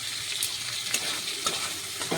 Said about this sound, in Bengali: এবার এটাকে তাহলে ভাজা ভাজা করব তারপর এবার দিয়ে দিলাম কুচি করা টমেটো